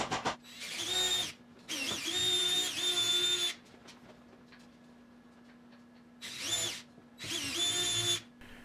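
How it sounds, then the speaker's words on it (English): Four separate bursts of a power drill boring holes in a trim piece during a 1973 Triumph TR6 soft top restoration, each whine lasting about one to two seconds, with quiet gaps between them. "now I drilled them here in the trim piece"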